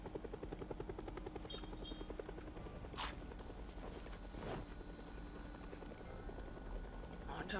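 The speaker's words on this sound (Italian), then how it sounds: "Ah, l'elicottero? Lo sentite? Se ne sta andando." A video game helicopter's rotor thrum drones steadily in the background, fading slightly as it flies away, with a few sharp whooshes and clicks over it; no talking. Game: Project Zomboid.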